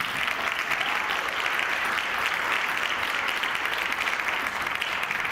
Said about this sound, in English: How about a great big round of applause for Chris Fascione.